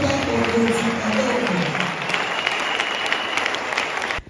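A church congregation applauds and cheers for the Lord, a loud sustained wave of clapping with crowd voices mixed in that fades out abruptly at the end.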